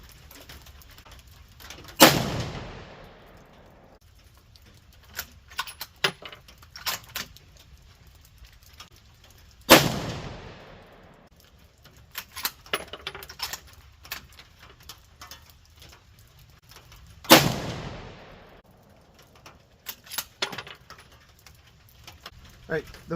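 Three loud, sharp reports from a Ruger American Gen 2 rifle in 6.5 Creedmoor firing Winchester ammunition at a range, each blast followed by a decaying echo, spaced about eight seconds apart with quieter clicks and handling noises between.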